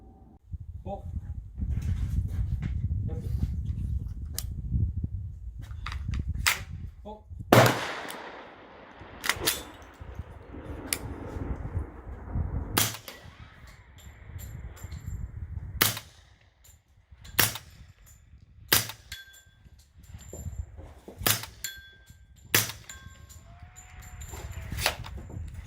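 Single sharp gunshots from an AR-45 rifle at an outdoor range, loud cracks spaced a few seconds apart over a low background rumble, with talk between shots.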